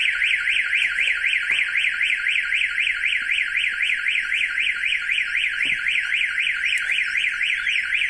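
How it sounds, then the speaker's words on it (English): A StarLine car alarm fitted to a Toyota Prius blares a fast, rapidly warbling siren tone, loud and continuous with a steady rhythm, with faint handling noises beneath it. "two-way pager's triggering, and alarm is going off."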